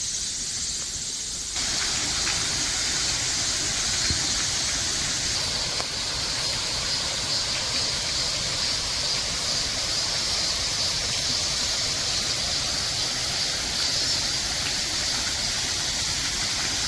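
A valley stream runs through dense forest on a wooded trail, steady broadband rushing water that stays even and continuous with no voices.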